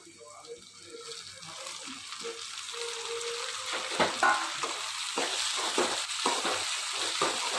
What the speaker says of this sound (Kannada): ಈರುಳ್ಳಿ ಮತ್ತು ಟೊಮೆಟೊ ಒಟ್ಟಿಗೆ ಫ್ರೈ ಹಾಕಬೇಕು